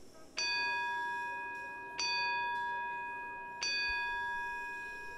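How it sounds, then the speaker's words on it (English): Three bright, ringing chimes sound one after another at roughly even intervals to signal that a presentation is about to begin, each tone decaying slowly before the next. "those chimes mean that the presentation is about to begin"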